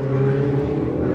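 Ferrari Challenge race cars accelerating downhill at Sonoma, a loud, steady, close engine roar with layered tones from several cars at once, with no talk over it.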